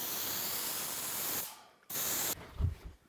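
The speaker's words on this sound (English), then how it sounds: "So I'm just going to give it a couple of test sprays here." An HVLP spray gun loaded with water gives two test sprays, each a steady broadband hiss lasting over a second, separated by a brief pause and followed by faint low handling thumps.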